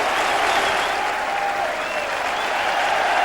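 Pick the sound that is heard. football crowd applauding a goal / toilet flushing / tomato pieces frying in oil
football crowd applauding a goal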